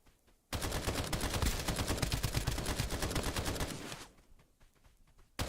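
Rapid, sustained automatic gunfire from guns in the video game Escape from Duckov, loud and dense for about three and a half seconds before dropping away to quieter background noise, with a sharp burst returning at the very end.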